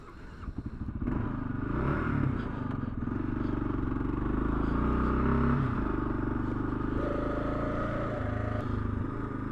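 A Kawasaki KLR650S motorcycle rides off-road, its single-cylinder engine thrumming steadily and loud, with clattering and rattling over rough ground and some rising revs.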